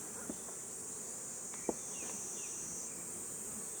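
Honey bees buzz steadily around beehives in an apiary, a continuous insect drone with faint, brief clicks and knocks over it and no talk.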